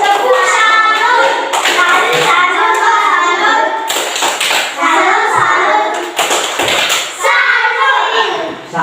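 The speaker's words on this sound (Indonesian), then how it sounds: "Beri tepuk salut." A class of children claps together in a sustained burst of applause in an Indonesian classroom, with young voices chattering and calling out over it.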